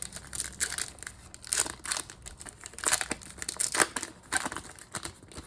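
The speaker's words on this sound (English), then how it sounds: "Let's get ripping." Foil wrappers of Panini Prizm WNBA basketball card packs crinkle and tear open up close, a loud, busy run of crackling rips and rustles with no talking.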